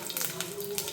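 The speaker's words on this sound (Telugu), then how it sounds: "అదే బాండీలో తాలింపుకు తయారు చేస్తున్నానండి. తాలింపులో ఆవాలు, జీలకర్ర," Mustard seeds and cumin fry in hot oil in a kadai for a tempering for idli chutney, giving a faint, steady sizzle with small scattered crackles.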